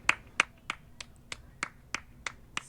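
Someone claps alone from a balcony overlooking a huge empty yard, about nine sharp, evenly spaced claps in a steady rhythm, fairly distinct against a quiet background.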